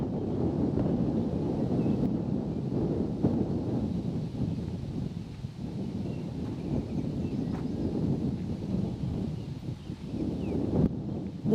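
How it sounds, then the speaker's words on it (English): Wind blows steadily across Moss Lake in Elk Island, a loud, continuous low rumble and buffeting against the microphone with slight gusting swells and no talking. "As you can hear, it was a bit windy"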